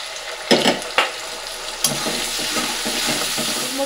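Ground coriander leaves and green chilli paste hit hot oil with onion paste in a home kitchen, giving a few sharp clatters of stirring early on, then a steady close sizzle.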